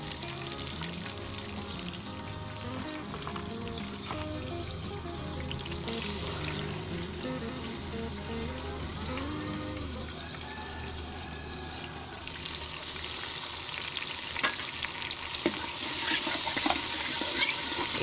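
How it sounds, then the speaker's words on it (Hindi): Onions sizzling in about five tablespoons of vegetable oil for Punjabi-style black chickpea curry, a steady broadband frying hiss with faint clinks, growing somewhat brighter and louder in the last few seconds. "सबसे पहले 5 टेबल स्पून के करीब वेजिटेबल ऑयल डाल दें और इसमें प्याज डाल दें।"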